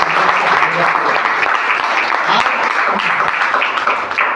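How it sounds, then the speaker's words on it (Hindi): A seminar audience gives loud, enthusiastic applause for a hair-care product, a thick, continuous burst of clapping that stays strong throughout, with faint voices mixed in underneath. "तो इतने शानदार प्रोडक्ट के लिए जोरदार तालियां होनी चाहिए"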